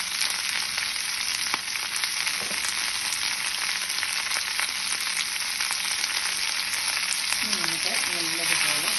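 Ivy gourd stir-fry is stirred in a pan, a continuous frying hiss with scattered clicks of a spoon against the pan, fairly close and steady, without speech.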